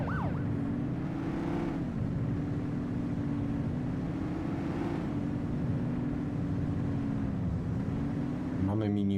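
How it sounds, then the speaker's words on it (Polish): A wailing police car siren in the game The Precinct sweeps up and down continuously over a low engine drone, loud and close throughout, with a brief clatter at the end. "Włącz syrenę, lewy shift."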